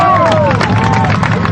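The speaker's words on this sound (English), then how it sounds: "crowds of protesters let out a big cheer" A crowd of protesters outside Florida State Prison cheering and clapping as Ted Bundy's hearse leaves after his execution, a loud dense roar of voices with a whistle-like tone rising over it.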